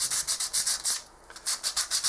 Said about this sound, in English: cracking on with some sanding